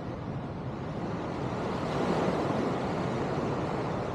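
Ocean waves wash steadily onto a beach in Punta Cana, a continuous broadband surf roar with a gentle swell in the middle, close and fairly loud with some wind on the microphone.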